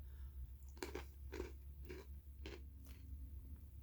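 Snyder's of Hanover twisted pretzel sticks being chewed, giving five or six crisp crunches in a steady rhythm, close but quiet, with no talking.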